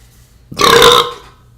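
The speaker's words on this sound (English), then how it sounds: "that amazing burp I just had" A single loud, close human burp, rough and throaty, lasting about half a second and standing out against near silence.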